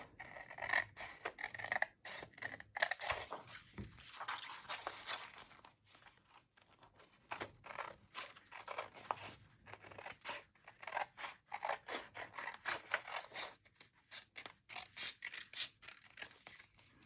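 Scissors snip through a paper journaling card in a quiet room, a faint, steady series of crisp cuts and rustling paper running throughout.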